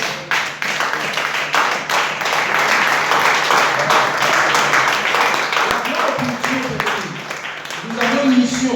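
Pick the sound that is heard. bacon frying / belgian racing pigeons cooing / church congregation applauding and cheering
church congregation applauding and cheering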